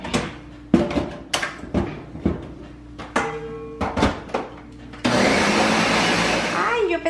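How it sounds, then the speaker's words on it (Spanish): A kitchen blender starts up and runs at a steady roar, liquefying ingredients with water, preceded by a series of sharp knocks and clatters as things are set in place. The whir comes in loud and continuous for the last two seconds. "ya ahorita pues nada más vamos a licuar todo"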